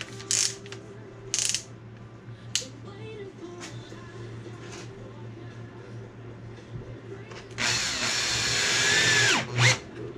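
A power drill drives screws into a mock-up winch handle, with a loud sustained whine late in the clip after a few short bursts, over a steady low hum.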